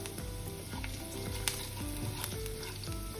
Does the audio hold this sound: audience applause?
no